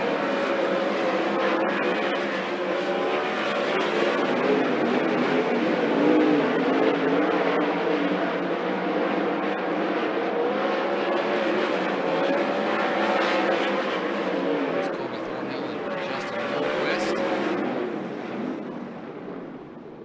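410 sprint cars thunder around Skagit Speedway during hot laps, a dense continuous engine roar that swells and fades as cars pass, with smoke trailing from one car, no talk over it.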